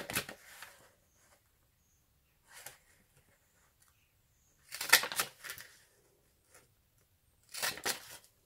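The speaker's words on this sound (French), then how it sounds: "C'est une perforatrice de bordure." A border paper punch working slightly crumpled paper, giving sparse crisp crunches and rustles in four separate bursts, close and fairly faint against quiet.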